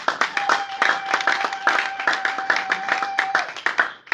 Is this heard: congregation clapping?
yes